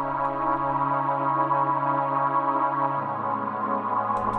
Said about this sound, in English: It adds this extra crunchy kind of texture to the pads.